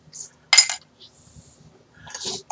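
A drinking glass is nearly knocked over on a table, with a sharp clink and rattle of glassware and tableware amid brief, scattered knocks and some voice-like sounds.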